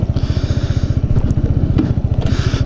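A Kawasaki Z125 motorcycle engine thumps in a fast, even pulsing rhythm close by, with a couple of brief revs and small clicks over the steady idle.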